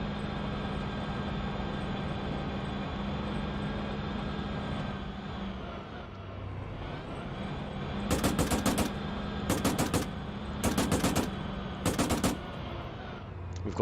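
Four distinct bursts of automatic gunfire from Arma 3 combat cut through a steady low vehicle engine rumble in the second half, each burst a short rapid rattle at moderate distance, with no talking.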